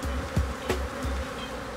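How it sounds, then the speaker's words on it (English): An attacking swarm of bees buzzes in a dense drone, with a few louder bees zipping past close by. "These bees are still attacking even after being what would normally be defeated"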